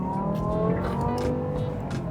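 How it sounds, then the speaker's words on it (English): A Dinan-tuned BMW E60 M5 with a V10 engine accelerates, its exhaust giving a steady, dense rumble and drone throughout a short, continuous stretch, close and moderately loud, with no talking. "Love that exhaust, sounds great."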